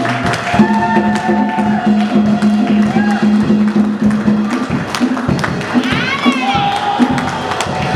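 A French-speaking church congregation cheers and shouts in praise, a loud and steady mix of many raised voices with whoops and hums rising throughout.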